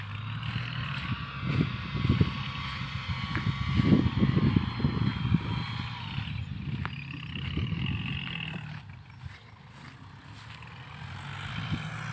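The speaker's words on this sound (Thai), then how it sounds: "รถไถนา" Farm tractor plowing a rice field, a rough rumbling engine with uneven throbbing pulses rising and easing over several seconds, heard from a moderate distance outdoors without talk.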